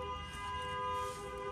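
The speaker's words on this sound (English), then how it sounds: "I think the honking's done" Car horn honking outside, a steady sustained horn tone that holds evenly for the whole stretch, moderately faint and heard at a distance, with no talk over it.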